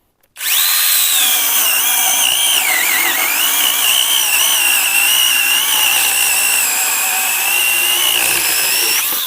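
A Grosser GCS 860S cordless chainsaw starts up and cuts through pine, a loud close high-pitched motor whine that holds steady for about nine seconds with slight shifts in pitch under load.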